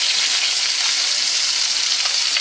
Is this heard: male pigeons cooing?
no